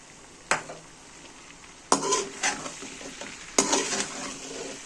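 Lemon pieces, cumin and green chilies stuffed with chaat masala fried in a pan, with three sharp sizzling bursts as each lot hits the hot oil, then a steady crackle and light stirring between them.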